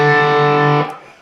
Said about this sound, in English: the first lick you'll hear in verse 2 is really a pedal steel type lick